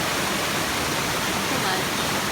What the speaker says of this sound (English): Here we are at another waterfall in Hagas.